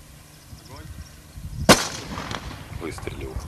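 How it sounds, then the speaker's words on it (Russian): A single sharp sniper rifle shot cracks out during a Russian special forces training exercise, loud and abrupt midway through a quiet outdoor scene, followed by fainter rustling and echoing noises. "Выстрелил."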